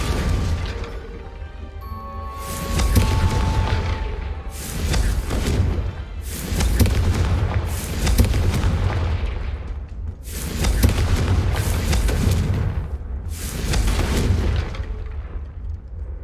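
Confringo fire spell blasts in the Hogwarts Legacy video game, a series of about six loud booming explosions with rumbling tails recurring every two seconds or so over a steady game soundtrack, no talk.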